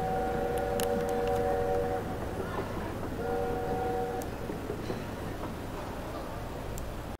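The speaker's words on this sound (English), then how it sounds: "You can just hear a train." Train sounds in the Rec Center of the video game Rec Room, a low rumbling rolling drone with two steady horn blasts, one near the start and one midway, ending abruptly.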